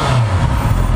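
A Honda CB650R motorcycle with its stock exhaust idles at about 1,350 RPM, a close, loud, steady low rumble over one brief moment with no speech.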